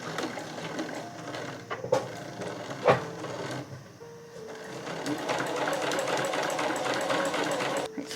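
A sewing machine stitches along the fabric edges of a tucked pouch in quick, steady mechanical bursts, close and fairly quiet, with brief pauses and clicks between runs.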